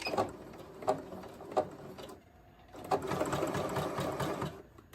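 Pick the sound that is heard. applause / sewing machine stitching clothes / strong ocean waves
sewing machine stitching clothes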